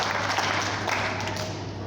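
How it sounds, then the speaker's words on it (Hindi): Schoolchildren at a school meditation programme clapping together, a continuous, even patter of many hands filling the short stretch, moderately close with faint room hum underneath. "वेरी गुड, ताली बजाने के लिए।"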